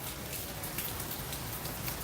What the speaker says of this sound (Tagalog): Biglang bagsak naman yung ulan.